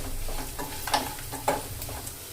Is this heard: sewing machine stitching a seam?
no